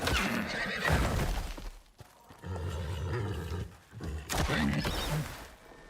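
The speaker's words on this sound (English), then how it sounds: "Horses." Horses whinny and neigh in several loud bursts in the video game Icarus, with a busy, layered game soundscape underneath.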